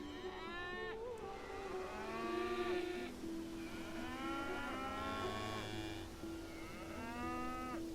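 Cattle mooing in the city-builder game Songs of Syx: several drawn-out moos in succession, close and fairly loud over a steady low game hum, with no talking.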